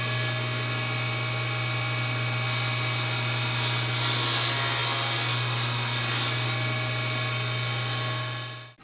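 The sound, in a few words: table saw cutting wood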